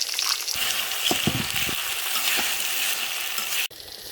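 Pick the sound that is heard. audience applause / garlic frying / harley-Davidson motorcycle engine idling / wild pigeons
garlic frying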